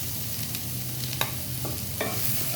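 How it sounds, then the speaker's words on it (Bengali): Chopped garlic hits hot oil with cumin seeds in a pan, giving a steady sizzle and a few faint scrapes and clinks from stirring. "এর মধ্যে দিয়ে দেবো 1 চা চামচ রসুন কুচি।"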